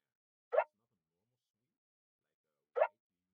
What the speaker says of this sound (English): here I have a Vox sound that is really repetitive and simple in this part of the track.